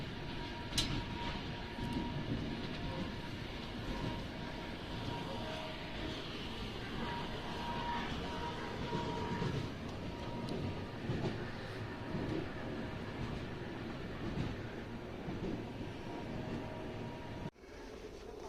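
Continuous rumble and rattle of an Iranian sleeper train on the Tehran–Shiraz line rolling on rails, steady and enveloping as heard from inside a carriage, with a brief thump near the end.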